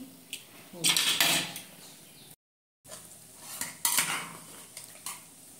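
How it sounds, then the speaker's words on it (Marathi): Metal clanks and scrapes as a pressure cooker lid is worked open, a couple of louder knocks separated by a short silent gap. "आता आपण कुकर खोलून बघू।"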